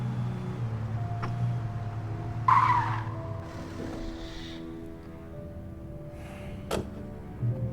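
A car in the Alan Wake video game skids with a long screech over a steady engine drone, followed by a sharp crash thump near the end.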